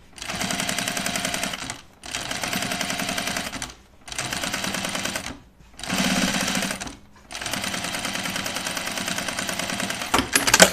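A sewing machine top stitches a duffle coat seam in five long bursts of rapid, steady mechanical chatter separated by short pauses, close and fairly loud.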